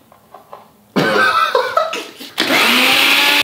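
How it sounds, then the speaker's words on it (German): A kitchen blender whirs loud and close as it mixes a milkshake, running in two bursts separated by a brief sputter, with a few soft knocks before it starts. "wenn du das jetzt in den Mixer machst"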